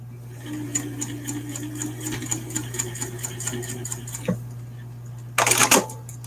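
A sewing machine stitches lanyard tabs for an ID holder in a fast, steady mechanical patter up close. The stitching then stops, and a short burst of rustling or snipping follows near the end.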